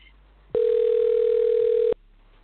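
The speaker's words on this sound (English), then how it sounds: "Let's dial him in." A steady telephone dial tone sounding while calling a guest into a boxing preview show, one loud unbroken tone lasting over a second that starts and cuts off abruptly.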